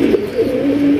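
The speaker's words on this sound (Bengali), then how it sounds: "আজকে কিন্তু ডিম বাচ্চা সহ অসংখ্য কবুতরের কালেকশন আছে।" Pigeons cooing at a pigeon seller's, loud close throaty coos rolling one into another over a short stretch, with no talk.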